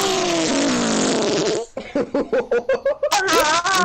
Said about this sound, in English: sat on it and farted on it